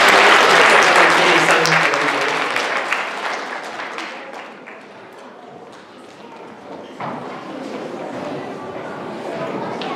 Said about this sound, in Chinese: 我们拍手给他们鼓励